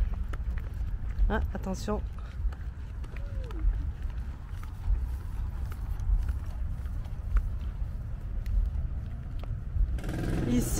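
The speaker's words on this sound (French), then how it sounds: "Ici, on a la police à cheval." Police horses' hooves clip-clop at an unhurried pace amid outdoor crowd noise and traffic in Washington, D.C., while people talk nearby.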